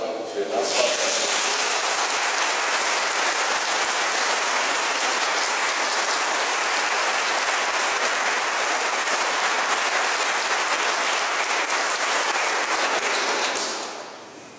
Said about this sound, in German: Ich glaube, dieser Mann hat einen Applaus verdient für das, was er tut.